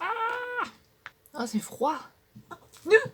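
A house cat meows indoors in a few short rising and falling calls, close by, mixed with a woman's speech.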